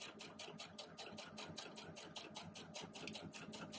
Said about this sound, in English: So let's stitch it on slowly here.